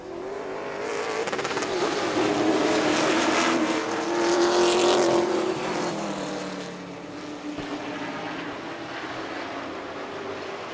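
Pro Stock race cars roar past on a track, engines swelling loud and then fading as the pack moves away, with a steady drone throughout.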